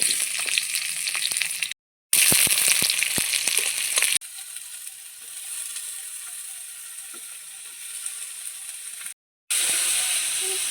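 Chopped onion and slit green chillies fry in oil in a pan, giving a steady close sizzle and hiss with crackling bursts, broken by a couple of brief gaps and a quieter stretch in the middle.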